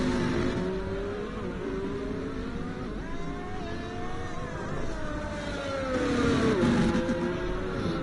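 A race car in a racing video game screams through a flying lap in wet qualifying, its engine note rising and falling steadily through gear changes, loud and continuous with no talk.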